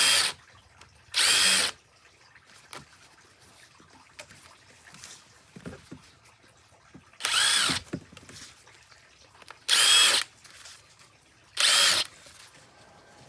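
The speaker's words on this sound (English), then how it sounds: "I'm drilling the holes all the way through" A power drill bores holes through a pipe for a raised-bed rain barrel overflow, sounding in four loud, separate bursts of a second or less, with quiet pauses between them.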